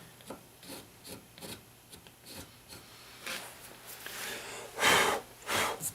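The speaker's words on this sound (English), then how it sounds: "it's actually so sharp it's filing off the aluminum too" Knife blade scraping and filing against aluminum, a series of short rasping strokes in an uneven rhythm that grow louder toward the end, close up with no talk.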